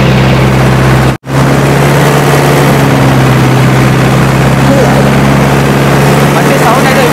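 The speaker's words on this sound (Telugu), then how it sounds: "బండి సౌండ్ అయితే విపరీతంగా ఉంటుంది." Loud engine of a vehicle, a Thar or Alto car, straining while being pulled out of sand by a tractor: a deep, continuous low drone that cuts out once briefly and then returns, with people talking over it.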